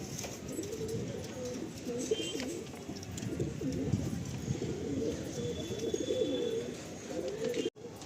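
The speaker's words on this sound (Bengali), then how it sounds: "এই হচ্ছে পায়রাটা।" A Madrasi pigeon coos repeatedly in soft, rolling low calls, close by over a steady background hum, with faint other bird and ambient noises around it.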